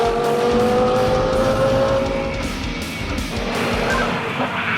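An Audi R8 race car at the Nürburgring, its engine roaring steadily at high revs with a brief tire squeal, loud and close, with no talk.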